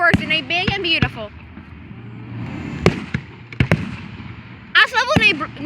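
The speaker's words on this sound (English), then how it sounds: "They got a lot of fireworks and they big and beautiful." Fourth of July fireworks burst in sharp, booming cracks, several clustered near the start, scattered single bangs in the middle and a dense crackling volley at the end, with people's voices reacting between them.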